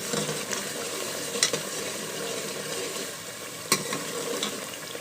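Masala for white chickpeas cooked with yakhni sizzles and fries steadily in a pot, with a spoon stirring through it and scraping the sides in two sharp clacks; no voices.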